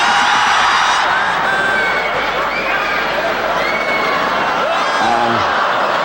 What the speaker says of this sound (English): And the crowd here at the Albert Hall want more of that spinning head mare.